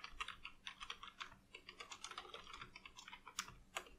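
Typing on a computer keyboard while writing code in Unity, a quick run of light, close key clicks in uneven bursts, quiet and alone without speech.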